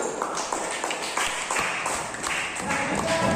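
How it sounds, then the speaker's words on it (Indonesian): Continuous clapping from a classroom full of students, bright and steady throughout, with the occasional louder individual clap standing out. "Tepuk tangan untuk kelompok 1."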